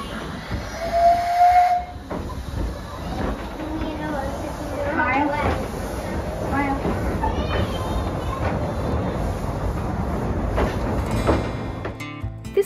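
A small steam railway locomotive on a one-mile line lets out a loud, sustained hiss of steam, with a brief shrill whistle near the start, heard close by over the whole stretch.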